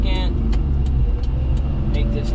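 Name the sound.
Daihatsu HiJet kei truck engine revving on highway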